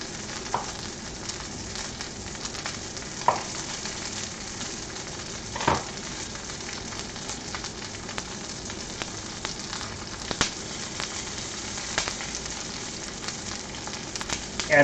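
Butter sizzling in a hot pan with drained potatoes: a steady dense frying crackle with occasional louder pops, close and continuous with no talk.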